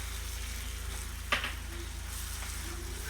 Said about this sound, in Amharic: አዋዜ ወደ 2 ማንኪያ ያክል ጨምሬ በደንብ አድርጌ አማስለዋለሁ